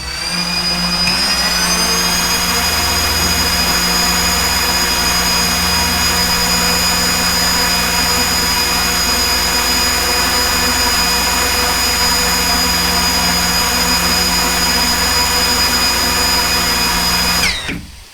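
A DJI FPV drone fitted with AFOIS propellers hovers nearby, producing a loud, steady high-pitched whine and whirring buzz that holds constant for the whole stretch before cutting off sharply at the end.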